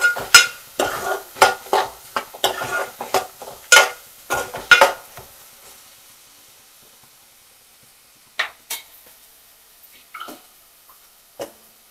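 Curry leaves and onions go into hot oil for an egg pulusu, with a burst of sharp spatters and crackles at first, then scattered pops and a few utensil clinks as the frying quietens.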